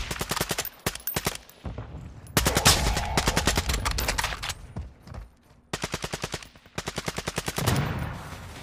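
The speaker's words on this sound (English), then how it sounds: "somebody else is shooting them from over here somewhere" Rapid automatic gunfire in Call of Duty Warzone 2, coming in several loud, close bursts of quick shots separated by short pauses.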